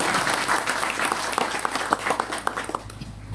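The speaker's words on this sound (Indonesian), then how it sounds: "Tepuk tangan dulu." Applause from an audience at a religious gathering, with crisp, uneven individual claps in a lively burst that thins out toward the end.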